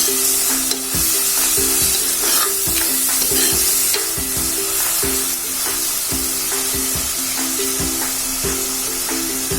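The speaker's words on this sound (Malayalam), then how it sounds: "ഇനി നമുക്ക് അതിലേക്ക് ചതച്ചു വെച്ച ഉള്ളി ഇട്ട് കൊടുക്കാം. കൊടുത്തത് ഒന്ന് വഴന്നു വരണം." Crushed shallots and onions sautéing in hot oil for a fish roast, with a steady loud sizzle and repeated stirring scrapes and clinks of a spoon in the pan throughout, no voices.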